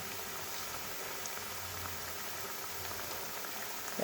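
Onion fritters (peyaji) fry in hot oil with a steady, dense sizzle and bubbling that runs evenly throughout at a moderate distance.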